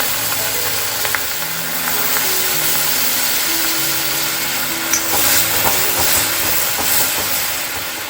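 Milk from payesh poured into a hot pan, a loud close continuous hiss and sizzle with faint clinks, lasting several seconds.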